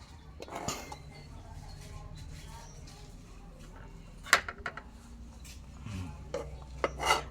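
Dishes and cutlery clink while being washed by hand, sparse clatters and scrapes rising at a few moments over a low background hum, with faint indistinct talk nearby.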